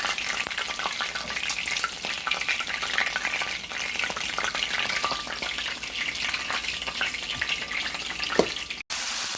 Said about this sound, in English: I'm gonna fry it to get the color